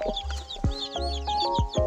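Turkey chicks hatched under a hen peep in shrill, rising and falling chirps, several overlapping calls close by, broken by a few low clucks and short thumps.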